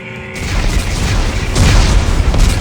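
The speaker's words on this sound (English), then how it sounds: "Computer, arm explosives. And detonate." Explosives detonate in the Dead Space 3 video game, a deep sustained boom that rolls on as a dense rumble with a second swell of blast partway through, loud and close with no voices over it.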